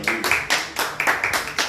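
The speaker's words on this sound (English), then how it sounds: "Y'all give her a hand clap as she comes up." A church congregation claps together at a worship service, loud close strokes in a steady rhythm of about three claps per second, with no talk.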